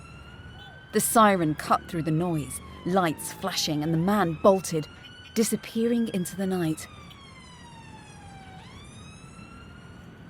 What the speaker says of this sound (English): And then the police car pulled up. The siren cut through the noise, lights flashing